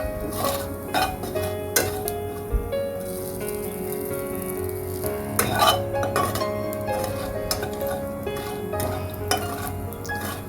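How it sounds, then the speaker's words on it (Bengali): A metal spoon scrapes and clinks in a pan while cumin and spices fry for a moong dal and fish-head curry, with steady stirring, sharp clinks throughout and a light sizzle underneath. "আবার একটু ভালোভাবে মিশিয়ে নেব সবগুলো।"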